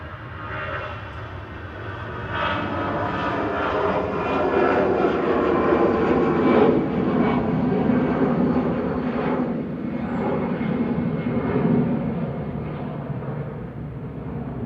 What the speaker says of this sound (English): That was EasyJet off to Copenhagen